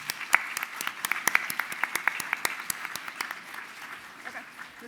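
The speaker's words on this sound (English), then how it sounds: "Let's thank our former public officials." Audience applause at a luncheon, a modest scattering of individual claps, crisp and irregular, tapering off toward the end.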